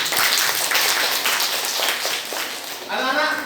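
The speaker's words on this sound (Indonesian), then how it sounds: "tepuk tangan." Students clap in a classroom, a dense steady patter of hands lasting a few seconds before a teacher starts talking near the end.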